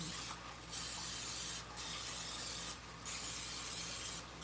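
Cooking spray hissing from an aerosol can onto a muffin pan in several short, loud bursts close by, with brief pauses between sprays.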